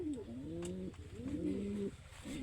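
Racing pigeon cooing close by in two long rolling phrases, the throaty coo repeated with a brief pause between them, with no talking.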